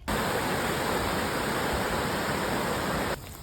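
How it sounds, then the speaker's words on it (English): A river flows near a marae in Tahiti, a steady, fairly loud broadband rush of water that carries on evenly and drops off abruptly near the end. "there was a river along the area that was so pretty and which made a pleasant sound"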